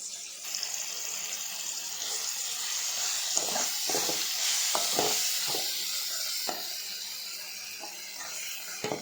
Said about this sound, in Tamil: வாசம் வர்றது வரை நம்ம எண்ணெயில் நல்லா இந்த அளவுக்கு வதக்கி விடணும்